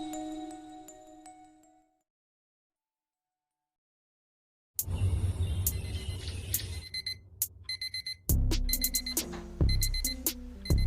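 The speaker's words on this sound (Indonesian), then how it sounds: "seorang yang bernama Spencer terbangun dari tidurnya karena kerasnya alarm di HP-nya" Phone alarm ringing loudly in the 2022 film Bull Shark: after a faint tone and a stretch of silence, a harsh electronic alarm bursts in, repeating in rapid pulses with clattering jingles layered on top.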